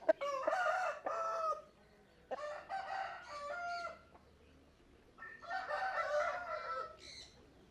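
A young aseel game rooster crows three times in close succession, each call long and drawn out, loud and near against a quiet background.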